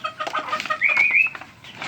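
A rooster crows once in a rising, strained call amid clucking and shuffling from nearby fowl.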